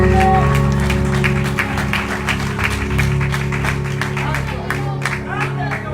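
A church congregation claps steadily for several seconds, the applause loud and close over a sustained musical drone, with voices mixed in.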